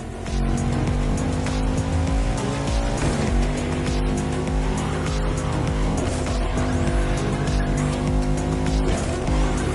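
Bugatti hypercar concept racing in The Crew Motorfest, a loud continuous engine roar with tire squeals and skids, steady and close throughout without talk.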